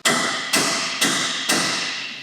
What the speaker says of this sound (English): take the connecting wedge and force it through the lock with a hammer